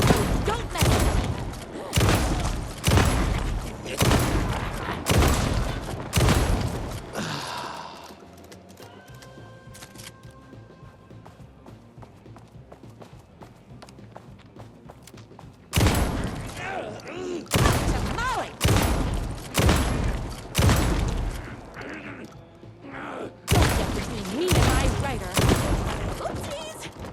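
Gunfire in the game Alan Wake 2 comes in repeated loud bursts of rapid shots, separated by a quieter stretch of ambient tones, with no voices over it.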